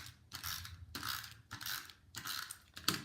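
Cardstock is cranked through an embossing folder in a hand-turned embossing machine, giving four short, quiet bursts of close ratcheting, grinding clatter separated by brief pauses.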